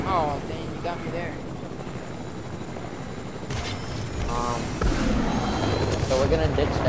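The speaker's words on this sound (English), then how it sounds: "So we're gonna ditch the helicopter when we're in?" A helicopter in the GTA video game drones and chops continuously throughout, with bursts of gunfire-like crackles, while players talk over it.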